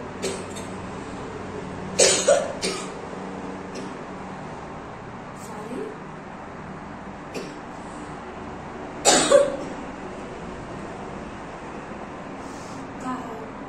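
A woman with a cold coughs in a few short harsh bursts, two clustered bouts spaced several seconds apart with fainter throat sounds between, close by over a quiet background.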